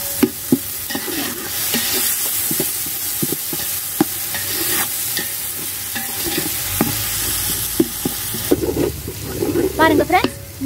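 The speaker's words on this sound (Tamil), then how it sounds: "நம்ம போட்ட வெங்காயம் இஞ்சி பூண்டெல்லாம் நல்லா அந்த பச்சை பாடை போயிடுச்சு" Onion, ginger and garlic sauté in a pan for mutton dum biryani, with repeated scraping stirs over a constant sizzle and a voice talking intermittently, louder near the end.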